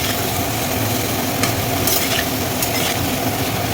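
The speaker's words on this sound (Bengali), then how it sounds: "এই যে এখন এটা ভাজা ভাজা করবো" Steady, dense frying sizzle of vegetables in a pan fills the whole clip, a broadband hiss with faint crackles, close and continuous, no voices.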